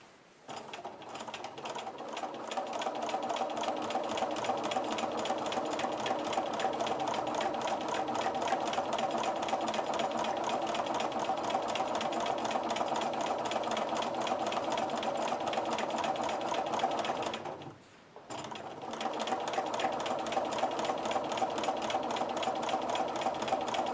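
A sewing machine stitches a clamshell quilting design in a steady, close, continuous mechanical whir, running alone for most of the time with a brief pause near the end before resuming.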